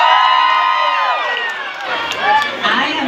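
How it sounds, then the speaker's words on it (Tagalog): Loud crowd cheering and shrieking at a Miss Gay Calapandayan pageant, a dense wall of high excited voices filling the whole three seconds. "isang hiyawan naman dyan."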